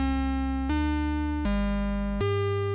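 Dry direct guitar signal from a Pixie plate reverb pedal, sustained single notes changing pitch four times in even steps, loud and steady with no talk.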